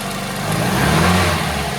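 2001 Mazda Miata NB with five-speed and open diff, engine running at idle with a faint uneven stumble in its steady low hum; close and alone.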